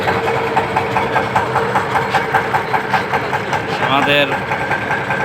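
A boat engine runs steadily as the boat departs on a busy Eid holiday trip, a continuous mid-low mechanical drone with a rhythmic pulse under loud nearby talk and crowd noise.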